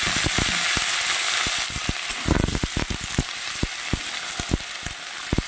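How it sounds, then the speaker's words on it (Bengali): Potatoes and squash fry in leftover oil in a pan for a homemade vegetable dish, a loud dense sizzle up close, followed by a run of sharp spitting pops and crackles. "এইবার আমি ওই তেলে, যেটুকুনো তেল আছে ওই তেলে আমি আলু ভেজে নেব।"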